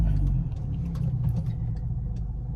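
A turbocharged 2012 Volkswagen Golf R MK6 engine rumbles steadily up close under acceleration, a deep continuous drone with no talking over it.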